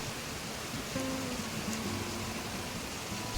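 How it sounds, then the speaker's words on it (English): Steady hiss of rain mixed with rushing falling water from a waterfall in Animal Crossing, a constant broadband wash with faint tonal hums underneath. "Kind of like the sound of the waterfall along with the rain."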